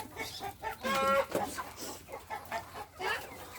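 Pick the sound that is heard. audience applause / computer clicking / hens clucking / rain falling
hens clucking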